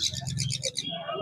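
A chattering lory at the Serampore pet bird market gives a short, close burst of rapid, evenly spaced bright chirps that ends in a trailing whistle.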